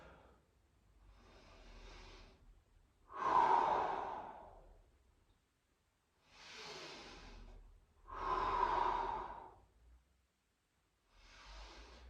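Slow, deep breaths during a lower-body yoga exercise, close and audible, alternating long airy inhales and exhales in an even rhythm with quiet pauses between them.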